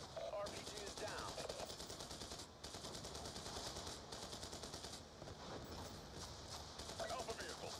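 Enemy gunfire in the video game Call of Duty: Black Ops 2, relentless machine-gun bursts and rifle shots crackling without pause throughout, with brief gaps between volleys and voices heard under the barrage.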